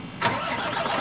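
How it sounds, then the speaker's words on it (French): A truck engine cranks and catches, a quick starter burst settling into a steady close rumble. "Ensuite, moi je mets en route le camion"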